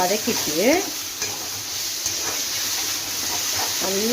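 Spices with salt and turmeric sizzle in a hot frying pan for sankara fish curry, a steady hiss, a few scrapes of stirring and faint chirpy sounds around it.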